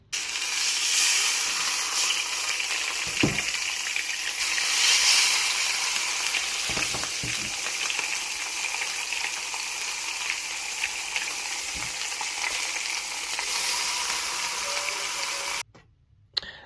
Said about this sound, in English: So now the fish fillets go into the pan. Let's have a listen to the sound.